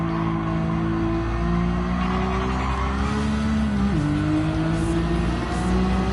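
A Nissan R32 GT-R with a swapped LS engine accelerates in Gran Turismo 7, its engine holding a loud, continuous drone that shifts pitch as it goes through the gears, with a hint of tire squeal.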